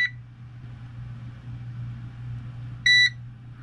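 A short electronic beep from a GoldenMate UPS buzzer with a bright harmonic tone sounds near the end, with another at the very start, over a steady low electrical hum.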